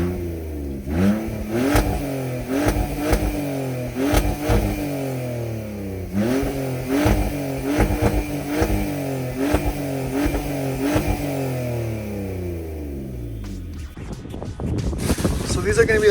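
A BMW E46 with the M54 inline-six and muffler-deleted exhaust revs repeatedly, a loud raspy engine note climbing and falling in rhythmic blips close to the microphone, with wind noise and a brief burst of rough noise near the end.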